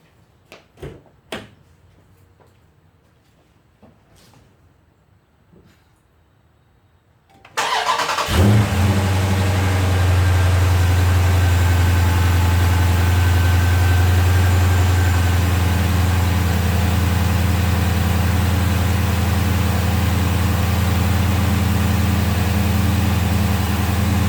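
A 2016 Dodge Charger Scat Pack fitted with a cold air intake cranks and fires after several seconds of quiet with faint clicks, then settles into a loud, steady, close idle that runs unbroken to the end.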